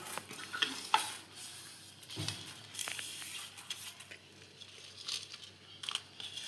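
Whole spices (cumin, fennel, black pepper and dried red chilies) dry-roasting in a pan for aam panna masala, with a soft crackle and scattered scraping stirs, fairly quiet and close.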